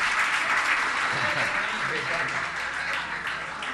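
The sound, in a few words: audience applause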